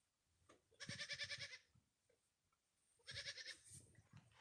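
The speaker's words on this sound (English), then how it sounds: "A vociferous goat." Goat on a farm bleating loudly outdoors, two long wavering calls about two seconds apart, close and clear with little else around.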